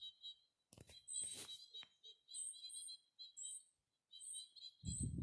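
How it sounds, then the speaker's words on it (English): White-winged crossbills call from high in a spruce tree, a series of thin, high chirps repeated through the clip, with a brief rustling burst early and a low rumble near the end. "there actually are some white-winged crossbills way at the top of that spruce tree"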